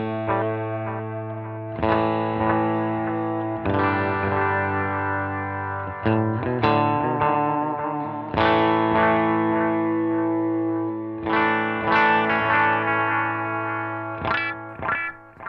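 Electric guitar phrases through a Dolamo digital delay pedal, echoing repeats trailing after each note, the repeats blurring slightly as they fade; no voices.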